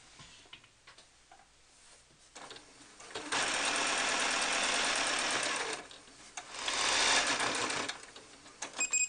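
A home sewing machine bastes the arms of a handmade cloth mermaid doll to the top of the body, running in two rapid, rattling bursts separated by short pauses, close and clear with no talking.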